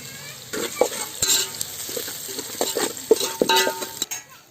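Onions sizzle steadily in a hot pan, frying golden for a crab fry, with a utensil scraping and stirring and occasional light clinks of metal against the pan.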